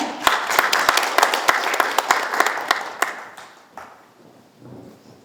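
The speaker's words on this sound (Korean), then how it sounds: "큰 박수로 모시겠습니다." Crowd applause at a meeting rings out loudly with sharp individual claps, then gradually thins and fades away toward the end.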